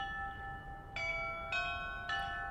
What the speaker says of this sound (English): There is our 6 o'clock chimes